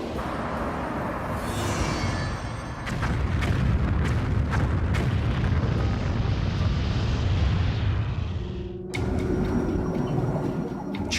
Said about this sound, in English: American nukes strike Beijing as the U.S. suspects Chinese involvement in the Sydney attack